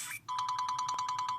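Cygnus, a stock ringtone on the Sony Xperia Z phone, plays a fast, evenly pulsing electronic pattern of bright repeating tones, clear and alone.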